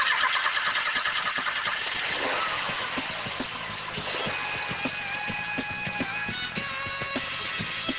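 A Matra Murena sports car engine cranks with a rapid starter chatter, then catches and settles into a steady idle, heard close and alone.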